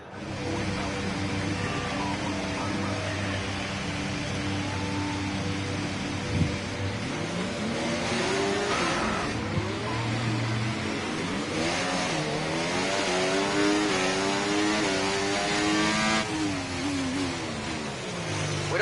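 A Formula 1 car's engine in the F1 24 racing game revs on a practice start, its pitch sweeping up and down through repeated climbs, steady and fairly quiet, with no talking.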